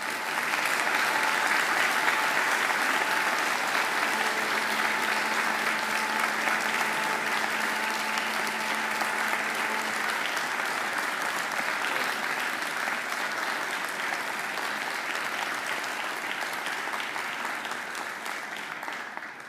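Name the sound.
graduates applauding their families at a graduation ceremony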